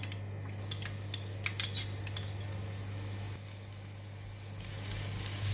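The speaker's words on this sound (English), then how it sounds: "1 tablespoon of cooking oil, and we are frying the garlic now." Quiet sizzling of garlic frying in oil in a pan, punctuated by several light clinks of a utensil against metal, with a steady low hum underneath.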